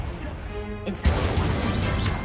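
A fire spell cast in Hogwarts Legacy bursts out with a sharp crash-like whoosh midway, then a loud crackling roar of flame that carries on to the end over continuous game background noise.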